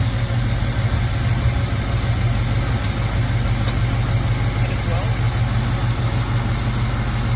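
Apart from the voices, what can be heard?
1968 Mercury Cougar engine idling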